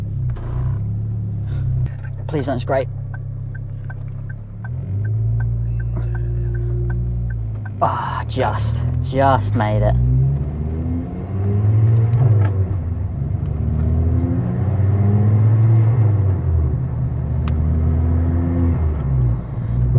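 A Mk2 Ford Focus ST225 drives with a loud aftermarket exhaust, its low turbocharged engine droning and rising through revs under steady road rumble, with a driver speaking briefly over it.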